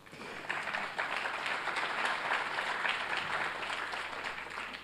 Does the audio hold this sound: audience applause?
yes